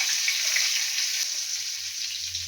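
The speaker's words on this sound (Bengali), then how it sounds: "এই যে গোটা জিরে ফোড়নে দিয়ে দিলাম। আর তার সঙ্গে দিলাম তেজপাতা আর কাঁচা লঙ্কা।" Whole cumin seeds, bay leaf and green chillies fry in hot oil for a Bengali tempering, making a dense, steady, close sizzle with no voices.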